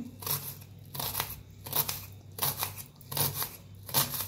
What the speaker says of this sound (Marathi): तर बारीक असं कापून घेऊया.